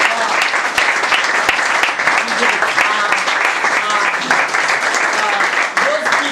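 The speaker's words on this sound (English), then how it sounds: "Clap your hands for them." A crowd at a student competition claps for the participants, a dense sustained roar of applause lasting several seconds with voices mixed in.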